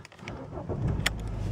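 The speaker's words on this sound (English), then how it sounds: "car starts without any issue" A 2008 Mercedes B180 CDI diesel with automatic gearbox cranks and fires up, the starter whir quickly settling into a steady low diesel idle close by, with no voices.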